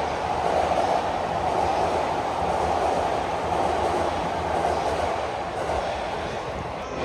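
Steady, loud rumble of a Narita Express train rolling past nearby in Tokyo, a continuous broadband roar with no clear breaks and no voices.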